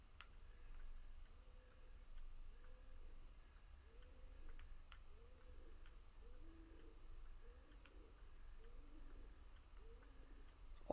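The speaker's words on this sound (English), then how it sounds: "Odd owl sound, isn't it?" An owl hoots in the video game Outlanders, a soft, faint series of low repeated hoots in a steady rhythm over a quiet ambient background with light ticking.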